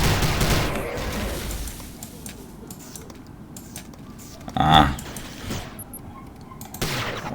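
Gunfire from a gun in the video game Prey (2006) comes as a few sharp shots, one standing out mid-clip, mixed with someone talking and other game sounds.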